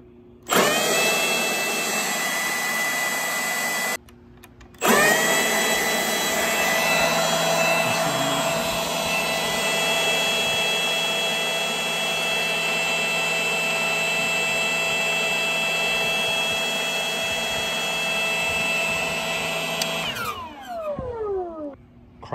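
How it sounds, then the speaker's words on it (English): A Milwaukee M18 FUEL 18-volt brushless cordless handheld leaf blower running near and loud with a steady high-pitched whirring whine. It cuts out briefly, restarts and runs continuously, then spins down at the end. "brushless leaf blower is not very loud at all. I was expecting it to be louder. So I'm gonna turn it on and leave it on."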